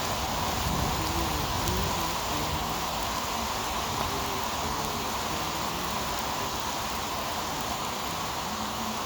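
Steady, dense rain hisses without pause around a rider on a Segway e+ electric unicycle, with a faint tonal whine beneath the loud outdoor downpour.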